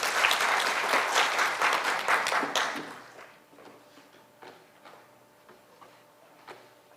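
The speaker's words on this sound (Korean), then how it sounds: "멋진 강의를 해주신 로토크 김진서 차장님께 다시 한번 박수 부탁드리겠습니다" Audience applause at a valve industry academy session after a lecture, loud dense clapping for about three seconds, then quickly thinning to scattered faint claps and a few last taps.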